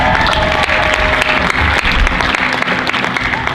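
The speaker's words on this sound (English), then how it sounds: "let's give her a round of applause" Students at a school meeting give a loud, sustained round of applause for a classmate's birthday, dense clapping close by that holds steady throughout.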